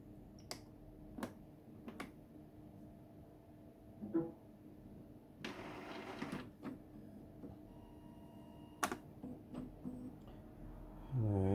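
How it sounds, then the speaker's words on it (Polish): Epson XP-452 inkjet printer powering on, a quiet series of sharp clicks and ticks with a brief whirring mechanical burst midway and a rising motor hum at the end, no talk. "Włączamy drukarkę."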